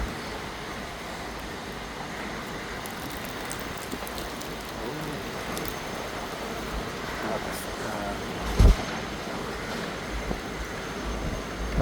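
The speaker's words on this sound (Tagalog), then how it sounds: "Magdamag ang ulan." Rain falls steadily in Dammam, Saudi Arabia, a continuous soft hiss of drops on surfaces with a brief loud knock partway through and a voice talking over it.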